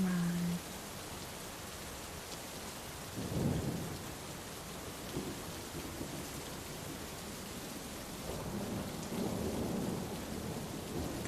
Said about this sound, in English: The storm begins sometime after midnight.